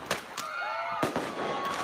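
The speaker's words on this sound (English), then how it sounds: "the bangs and booms of illegal fireworks are back" Illegal fireworks going off in a Bay Area neighborhood around July 4th: several sharp bangs and crackling booms in quick succession, with whistling trails between the blasts.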